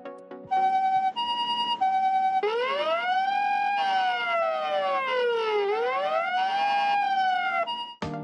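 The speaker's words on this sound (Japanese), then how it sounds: "このようにさまざまなサイレンや人の声をボタン一つで鳴らすことができる" A new ambulance siren in Sapporo, triggered by a button in the vehicle, sounds loud and close, beginning with steady alternating tones and then shifting into long rising and falling wails.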